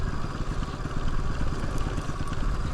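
A motorcycle on a snowy mountain road toward Barpak, Nepal, chugs with a steady, close engine pulse and light mechanical clatter, with no talking.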